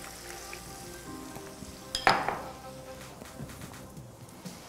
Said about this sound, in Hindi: अब गरम करें तेल और उसमें डाल दें ये मिक्सचर।